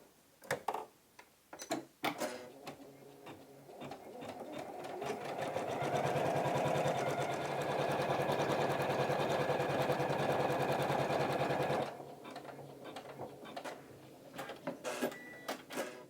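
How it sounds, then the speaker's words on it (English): An embroidery machine stitches around the outside of a Home Sweet Home design with a sustained rapid mechanical rattle for several seconds. Sparse clicks and taps come before and after the run. "then we are going to do the final step of the stitching around the outside of the design"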